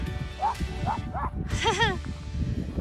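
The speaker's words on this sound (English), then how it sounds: "So whenever you hear the dogs, hear the echo?" Several dog barks sound outdoors by a lake, each trailing into a clear echo, with a short burst of yips in the middle and quiet ambient noise between.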